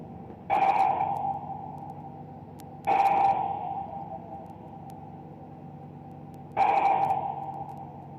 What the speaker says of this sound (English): So that was 3 shotgun blasts.